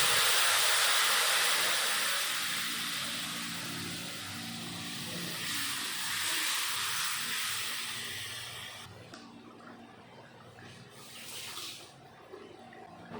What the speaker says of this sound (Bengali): ফোড়ন করা হয়ে গেল, এখন তরকারি ঢেলে দেব